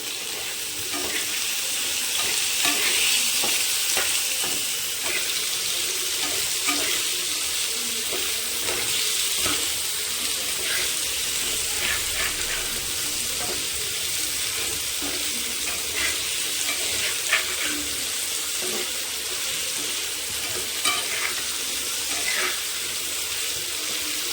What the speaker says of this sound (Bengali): ভালো করে এটা ভাজা ভাজা করে নেবো।